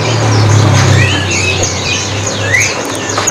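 Caged wild-caught songbirds, including large rowo-rowo birds, chirp and trill continuously at a bird market stall, several calls overlapping at close range over a steady low hum.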